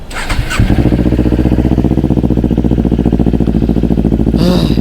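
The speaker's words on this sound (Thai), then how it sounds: "สตาร์ทเครื่องรอไว้ก่อน" A Kawasaki Ninja 400 motorcycle engine cranks and catches, then settles into a steady, loud idle with a rapid rhythmic putter close by.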